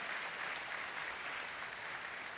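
A church congregation claps together in steady, dense applause, a sustained even patter of many hands filling the room for the whole stretch.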